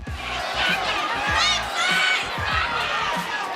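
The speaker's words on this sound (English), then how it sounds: "An eruption from this sold-out Tampa, Florida crowd." A sold-out arena crowd in Tampa, Florida roars and cheers at a fight, a loud, sustained wash of voices that surges and dips, with an announcer talking over it.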